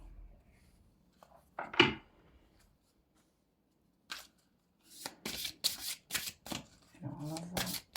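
Oracle cards being shuffled and drawn by hand, a soft riffle followed later by a series of quick papery flicks and slides, close and quiet, with a person speaking softly at moments.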